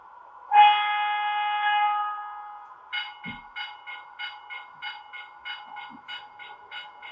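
A model train whistle sounds with a steady harmonic tone, then a rhythmic chugging pattern of repeated puffs follows, close and moderately loud.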